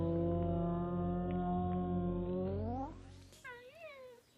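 A cat gives a long, drawn-out caterwauling yowl that bends upward at the end, then a few shorter wavering meows, close and fairly clear.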